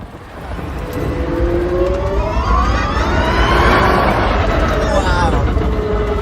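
An Aspark Owl electric supercar accelerates hard, its electric motors rising in a loud, sweeping whine over a heavy rumble, close by.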